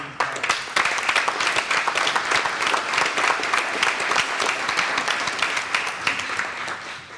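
Sustained applause from an audience honoring award recipients at a National Night Out Against Crime kick-off ceremony, dense steady clapping for about seven seconds that tapers slightly at the end.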